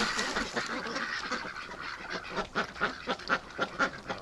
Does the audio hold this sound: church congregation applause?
no